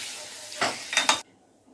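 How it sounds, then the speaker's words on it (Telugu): Eggs frying in a pan while being stirred for Andhra-style egg curry, with soft sizzling hiss and a few brief scraping stir strokes, then quiet. "పెనంలో ఇవి కొద్దిగా ఏగే వరకు కలుపుకోవాలి"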